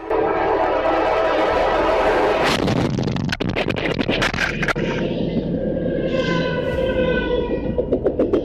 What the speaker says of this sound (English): The piercing sound of the train's horn came too late